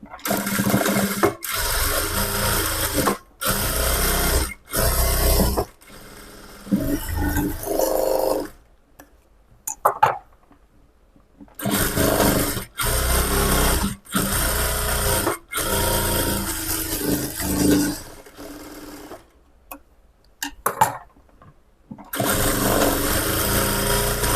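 A sewing machine stitches a lining blouse in loud, rapid whirring runs that stop and restart many times, with brief silent pauses between the bursts.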